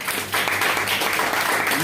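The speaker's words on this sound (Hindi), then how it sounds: "एक बार ताली सम्मान में आप लोग बजाएं" An audience at a business seminar applauds in honour of a company founder, dense steady clapping from a crowd that swells after a moment and keeps going.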